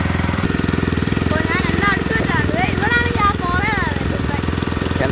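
A small vehicle's engine runs with a fast, even pulsing throb close by on a Kerala road, continuous throughout while someone talks over it.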